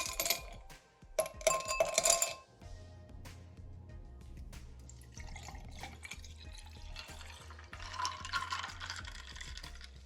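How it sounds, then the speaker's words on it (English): Ice cubes tumble into a glass of Jamaican-style carrot juice in a home kitchen, giving a cluster of bright clinks and clatters early on, then softer settling knocks and faint liquid sounds under a low steady hum. "I'm going in with some of our ice cubes."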